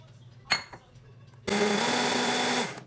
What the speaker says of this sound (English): And then I'm going to turn on the blender.